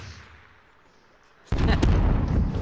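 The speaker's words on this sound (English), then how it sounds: "Oh, God, sniper got me!" After a quiet stretch, a single loud sniper shot cracks out in Call of Duty Warzone, followed by a dense rumbling echo.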